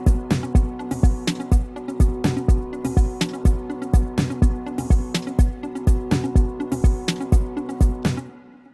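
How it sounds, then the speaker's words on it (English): A punchy synth pattern built in FL Studio for an Afro House track, loud rhythmic plucked stabs pulsing steadily over a low booming pulse, with no talking. "the next thing that I did was a synth"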